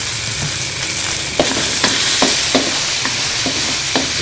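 Kimchi fried rice stir-fried in a wok with sesame oil, a steady close sizzle with repeated scraping strokes of a spatula against the pan, no voices.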